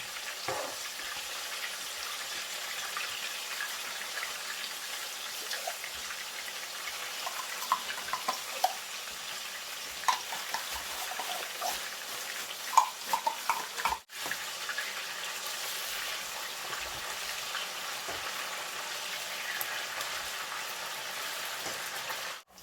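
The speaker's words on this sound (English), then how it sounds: "Guys, I've already fried the concentrated tomatoes" Canned concentrated tomato paste fries in a pot for a Nigerian stockfish and merluzza stew, giving a steady, moderate sizzle with scattered small pops and faint scraping. Two brief dropouts break the sound, and no one speaks.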